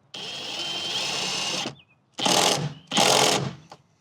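A power tool drives a T40 Torx screw while a Jeep rear seat is removed for a storage upgrade: one steady whirring run of about a second and a half, then two shorter bursts, close up with no talking.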